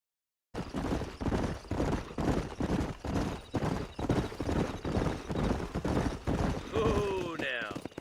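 Several horses' hooves clip-clop in a steady, rhythmic patter in the Red Dead Redemption video game, close and loud. Near the end a horse whinnies, and voices talk over the hoofbeats.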